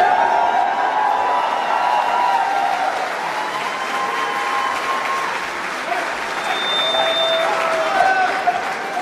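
Rally crowd for Rand and Ron Paul clapping steadily with scattered whoops and cheers, a dense sustained wash of applause heard from within the audience, with voices mixed in.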